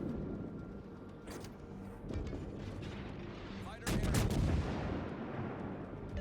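Heavy naval gun salvo from the cruiser Mogami's 155mm guns in World of Warships: loud booming blasts, with a big salvo near the four-second mark over a rumbling battle backdrop.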